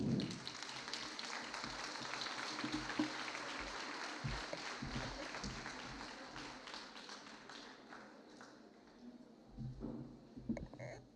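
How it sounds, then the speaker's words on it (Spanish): Conference audience applauding to welcome a speaker, a broad wash of many hands clapping at moderate distance that gradually thins out, with a few voices near the end. "Démosle un fuerte aplauso para recibirlo."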